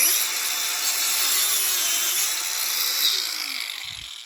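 DeWalt DCG405FN cordless angle grinder fitted with a wood-cutting disc sawing into wood, a loud continuous high rasping whine that holds steady for several seconds before easing off, with no talk.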